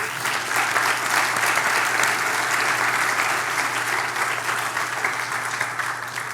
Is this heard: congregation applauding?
yes